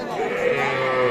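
A small calf at a cattle market gives one sustained, close, fairly loud bleat lasting about a second, with no talk over it.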